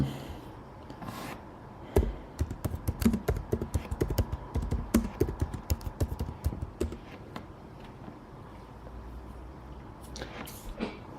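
Computer keyboard typing in a coding session: a quiet lull, then a run of brisk, uneven keystrokes for several seconds, then quiet again with a few final taps.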